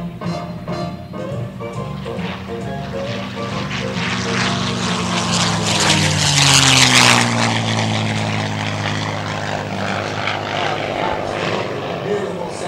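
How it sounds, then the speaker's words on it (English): A CAF P-51D Mustang propeller warplane flies past at a 2012 air show, its loud piston-engine drone rising as it approaches, peaking with a roaring pass, then fading slightly as it continues. "Look at this, the P-51D Mustang."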